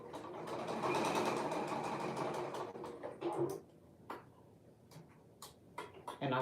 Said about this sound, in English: So I'm just sewing it closed.